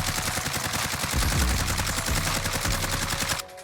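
Video game gunfire during a recoil bullet pattern test, a rapid automatic burst of loud, evenly spaced shots lasting a few seconds and cutting off abruptly, with no talk.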